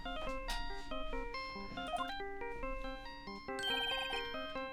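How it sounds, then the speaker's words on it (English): Electronic ringtone melody from the Phoenix Wright: Ace Attorney video game, a bright, steady chiptune-like phone tune playing in stepped notes over a constant low drone, loud and continuous with a busier burst near the end. "Incidentally, this is also the ringtone for my phone."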